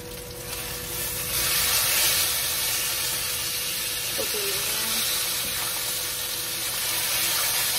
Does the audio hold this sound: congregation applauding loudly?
no